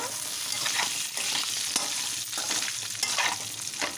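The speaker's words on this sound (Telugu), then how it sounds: "ఆయిల్లో మసాలాలు ఫ్రై చేసుకోవాలి ఫ్రై ఫైవ్ మీడియం ఫ్లేమ్లో ఫ్రై చేసుకోవాలి" Masala and pre-cooked chicken pieces frying in oil over a medium flame, a close, steady sizzle broken by repeated stirring scrapes in the pan, with no voices.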